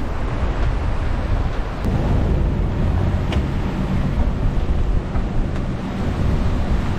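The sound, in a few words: wind and big waves on the North Atlantic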